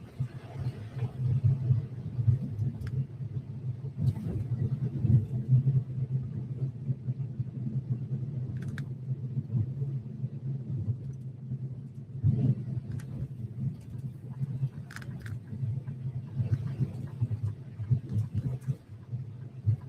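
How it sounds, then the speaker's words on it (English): Car rolling over badly potholed roads in Tucson, a steady low rumble of tires and engine throughout with scattered bumps and jolts, close and continuous with no talking. "Some of these roads in Tucson are absolutely atrocious. There's nothing but potholes."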